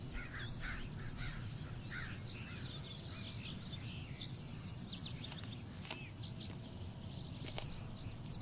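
Crows cawing repeatedly outdoors, a mix of near and distant calls with some smaller bird chirps over a steady low background rumble.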